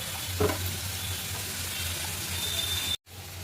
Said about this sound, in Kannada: ಈರುಳ್ಳಿ, ಇದು ಸ್ವಲ್ಪ ಫ್ರೈ ಆಗಲಿ.